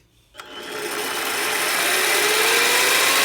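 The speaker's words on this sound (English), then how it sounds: "my highly modified Harbor Freight mini lathe now has steel gears in it, and you can hear" After a short quiet moment, a modified Harbor Freight mini lathe fitted with steel gears starts up and rises into a loud, steady whirring and gear whine close by.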